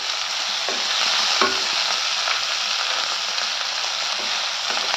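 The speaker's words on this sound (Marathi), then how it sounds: "हे बघा हाय फ्लेमवरती चांगलं परतलं गेलं." Marinated paneer stir-fries over a high flame with red chili sauce, giving a loud, continuous hissing sizzle with faint scrapes of stirring underneath, close and unbroken.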